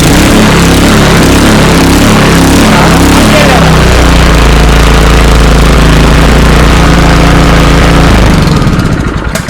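An HGP20-2G high-pressure water pump's small engine roars to life and runs loud and close, settling into a steady, throbbing drone.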